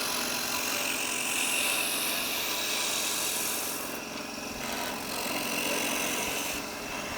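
Wood turns on a lathe while its diameter is cut down: a continuous rasping, rubbing scrape with brief lighter dips partway through, fairly close and without talk.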